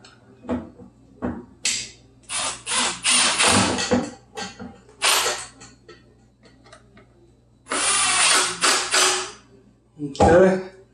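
Screws driven back into a car blower motor during a replacement job, heard as close, separate bursts of mechanical whirring and ratcheting in several spaced runs, with brief quiet gaps between them.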